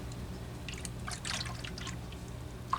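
Water dribbles and drips out of a Homelite Waterbug P100 pump that was stored with water inside, a faint irregular trickle over a low steady hum, ending with one sharper drop.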